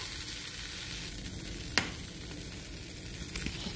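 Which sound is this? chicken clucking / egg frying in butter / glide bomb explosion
egg frying in butter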